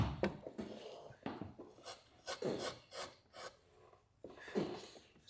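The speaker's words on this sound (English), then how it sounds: "We've got to bevel the edges." Edges of a wood carving being beveled with a tool, a series of quiet, close, rasping strokes in an uneven rhythm separated by short pauses, with no talking.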